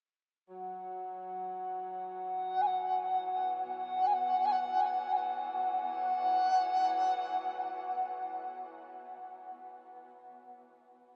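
Default preset of the Arturia Augmented Yangtze virtual instrument plays a sustained, harmonically rich tonal texture with layered elements and heavy reverb, rising in the middle and slowly fading out, with no voices.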